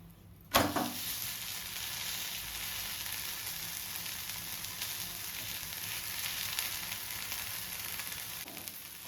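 Pesarattu, a sprouted moong dal crepe, sizzles in oil on a hot pan, starting with a sharp burst as the oil hits and then a steady, close, crackling hiss that continues evenly for several seconds without speech.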